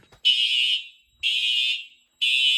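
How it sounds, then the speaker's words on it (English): A Simplex SmartSync mini horn and a Simplex 4251-20 fire alarm horn blare in loud, harsh, repeated bursts, each about half a second long with short gaps between them. "we've got a Simplex SmartSync mini horn and a 4251-20"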